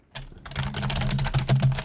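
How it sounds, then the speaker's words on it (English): Rapid, frantic typing on a computer keyboard, a dense continuous clatter of keystrokes from a film scene, starting after a brief pause and holding steady at close range. "But she's frantically typing."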